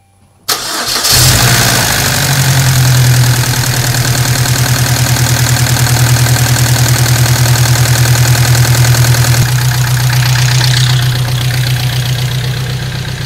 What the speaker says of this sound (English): I'm gonna let this thing sit idle for a little bit.